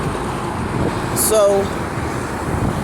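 Loud road traffic rumbles past close by, a steady roar of passing vehicles with a brief high squeal midway, while a person speaks a word over it.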